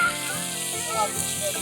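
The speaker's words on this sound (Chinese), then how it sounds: "把所有调味料炒匀。" Close, steady sizzling of sliced carrots and mushrooms being stir-fried with curry seasoning and soy sauce in a pan at a camping cookout, with soft scraping of the stirring.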